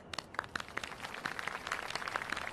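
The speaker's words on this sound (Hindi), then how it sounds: "हमारे इस खेल के प्लेयर्स के लिए एक बार फिर तालियां।" Audience applause for the players of a television game show, with rapid, sharp individual claps from a modest group, fairly faint and steady throughout.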